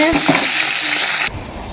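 A fish head fries in a pan of hot oil with a loud, dense sizzle and some stirring scrapes close by. Partway through the clip the sizzle drops away sharply.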